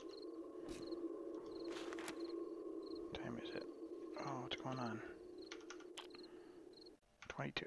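Faint computer keyboard typing during a live game stream, soft scattered clicks mixed with steady insect-like chirping and background noise, no clear speech.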